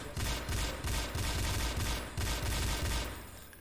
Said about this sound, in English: They're popping off shots at the fucking window.